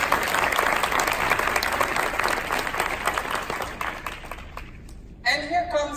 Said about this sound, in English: please give Kate a round of applause